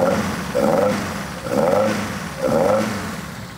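A car with a 16-valve engine revs in a repair workshop, three even throttle blips rising and falling about a second apart, close and fairly loud.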